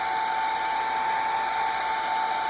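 A hair dryer blows steadily and loudly to dry a sprayed napkin on a bible page, a constant high whooshing roar with a fixed tonal hum throughout.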